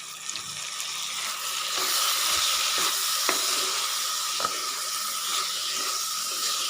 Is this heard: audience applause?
no